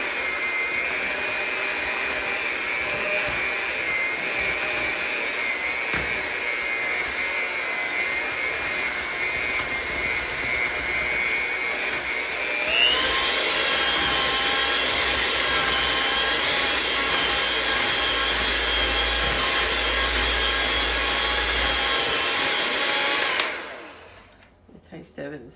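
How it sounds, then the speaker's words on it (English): Electric hand mixer whirring steadily while mixing banana split pie filling, a loud continuous motor whine that rises in pitch partway through, then cuts off near the end. "Then I'm going to take my mixer again,"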